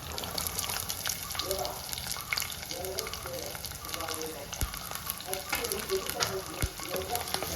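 Small onions hit hot oil in a pan for a Kerala-style brinjal curry, setting off a steady, close crackling sizzle throughout, with a voice speaking over it.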